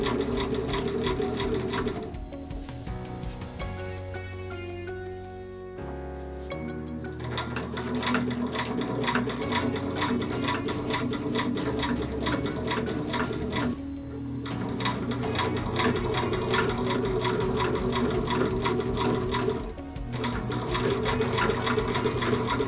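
A sewing machine stitches fabric for a pencil case in long steady runs of rapid mechanical chatter, pausing briefly a few times before starting up again, close and clear with no talking.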